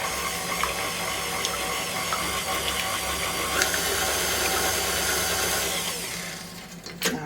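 An electric mixer whirs steadily through batter sweetened with jam and vanilla, a loud, constant motor drone that fades near the end before a few short clatters.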